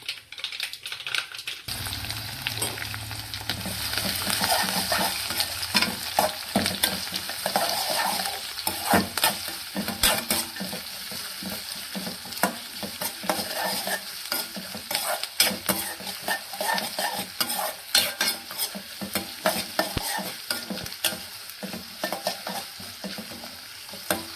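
Mustard seeds, onion, chili and curry leaves frying in hot oil, making a dense, crackling sizzle with rapid spitting pops, close and continuous for the whole stretch.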